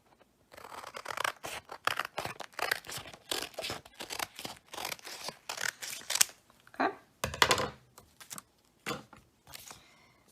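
Scissors snip down the middle of a stapled paper packet, giving a close series of sharp crisp cuts and papery crinkles in an irregular rhythm across the whole stretch, with no talking.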